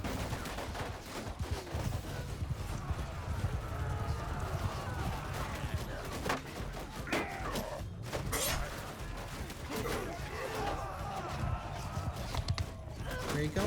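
Cavalry horses charge into archers in the video game Mount & Blade 2: Bannerlord, a dense rumble of hooves mixed with battle clatter and cries, steady and loud throughout, with some speech underneath.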